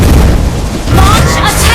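Turret destroyed in the Mobile Legends video game, a loud booming explosion burst up close, with game announcer-style voice sounding over the blast.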